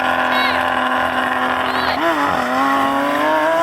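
A Porsche 911 Turbo S launching in a drag race against a Lamborghini SVJ and a McLaren 720, with a loud continuous engine roar that rises in pitch through gear changes, heard close up from inside with a voice over it.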